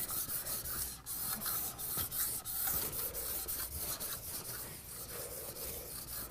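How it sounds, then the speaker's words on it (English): A trowel scrapes vigorously over Venetian plaster in quick, repeated rasping strokes, a close, steady rubbing texture with no talk over it. "take the trowel, and you're going to push it down so I have all my pressure on the side of the trowel away from me, and rub it pretty vigorously"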